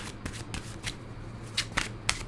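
Tarot cards being shuffled by hand in a series of quick riffling bursts, close and fairly soft, with a faint low hum underneath and no talking.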